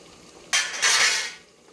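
A spoon scrapes and clinks against a pot while eggs are stirred into masala for a village-style egg biryani, two brief close scraping strokes over a quiet background.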